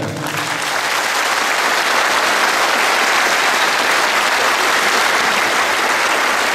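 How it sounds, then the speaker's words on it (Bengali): A village gathering in Billogram claps loudly for an honoured yoga teacher. The applause swells quickly and then holds as a dense, steady round for several seconds, with no speech over it. "আরও একবার করতালি হয়ে যাক"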